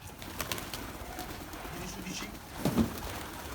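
Tumbler pigeons in a loft give a short soft coo close by, over faint background chatter and rustling.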